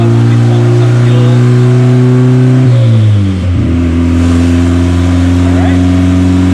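A Honda Civic 1.5 fitted with an eBay turbo kit cruising with a steady, loud mid-pitched engine drone heard from inside, dipping briefly as the revs shift midway, then holding steady again.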